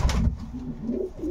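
Racing pigeons of a long-distance line coo in low, soft, throaty phrases close by in a loft, after a brief louder flutter at the start, with no talking.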